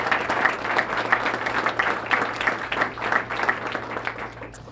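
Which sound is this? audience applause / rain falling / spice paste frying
audience applause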